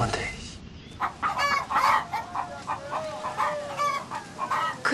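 Chickens cluck and a rooster crows in a farmyard setting from a Korean historical drama, giving repeated close clucks and calls over a low background bustle.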